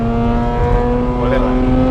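A Nissan S15 drift car with a swapped-in 2JZ engine idles steadily up close, a smooth, even hum running throughout, with voices talking over it.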